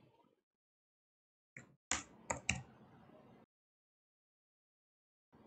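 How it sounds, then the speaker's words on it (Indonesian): A name is typed on a computer keyboard in a short, brisk burst of crisp keystrokes lasting under two seconds. Quiet gaps come before and after, with one more faint click at the end. "kita bisa langsung ketik namanya di sini"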